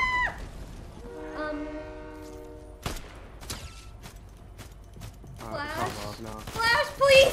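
A train rolls past in the Fortnite video game, its steady horn-like tones sustained for about two seconds, followed by sharp clanks and bursts while voices chatter loudly over the end.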